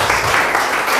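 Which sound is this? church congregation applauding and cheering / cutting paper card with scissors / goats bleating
church congregation applauding and cheering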